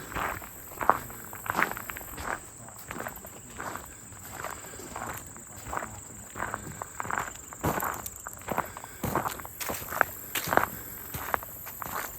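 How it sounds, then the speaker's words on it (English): Crunchy footsteps on dry ground at Jones Creek, Land Between the Lakes, a steady walking rhythm of crisp crackling steps, with faint insects chirping in the background. "Crunchy footsteps."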